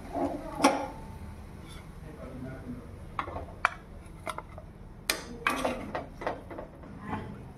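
Fried gobi manchurian being moved from the pan onto a serving plate in a home kitchen, with light clinks and taps of a utensil against metal and dishware scattered throughout, faint and intermittent.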